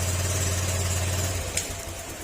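A Honda Click scooter engine fitted with a new ECU runs steadily at idle, a close low rumble that holds for over a second before easing, with a faint click near the end.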